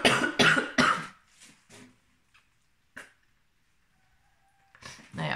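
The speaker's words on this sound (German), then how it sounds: "kriege ich immer direkt Hustenanfälle." A person with bronchitis coughs in a harsh burst of several loud coughs, then quieter scattered hacks and throat sounds, with another strong cough returning at the end.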